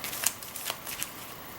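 A deck of weather cards from the Dawn of Aces board game being shuffled, crisp riffling and snapping bursts close by in quick irregular rhythm.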